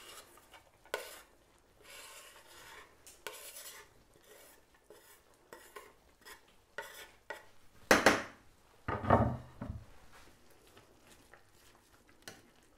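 Onions go into a pan with oil and are stirred, giving scattered scraping and clattering strokes and two louder bursts of utensil-on-pan contact near the end, with no voices.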